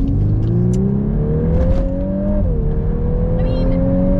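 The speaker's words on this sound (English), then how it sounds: "that's incredible acceleration for a Golf" A Volkswagen Golf R MK8 accelerates hard, its engine note rising steadily through the revs with a brief dip at a gear change before climbing again, loud and close from inside the car.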